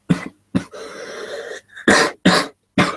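Several sharp, close coughs in quick succession, with a short raspy throat sound between them.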